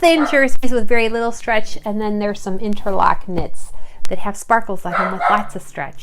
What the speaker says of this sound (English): And if you hear that barking,